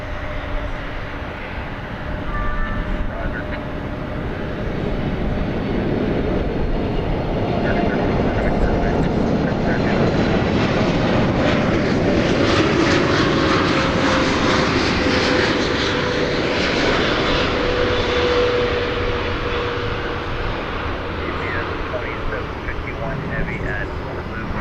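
Boeing 747-8 on the runway at DFW airport in fog, its engines building into a loud, sustained broadband roar that swells toward the middle and holds steady, with a faint whine riding on top.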